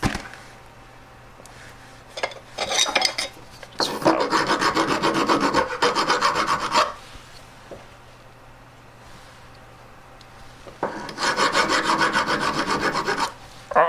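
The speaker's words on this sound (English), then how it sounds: "I've just decided to file that a little bit because there's loads of metal for my pliers to grip onto" A metal hand file rasps across a metal collet while shaping a marquise-shaped jewelry setting, in several bursts of quick, scratchy back-and-forth strokes separated by short pauses, close and fairly loud.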